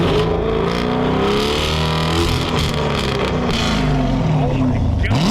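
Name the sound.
tuned car engine revving with long-tube headers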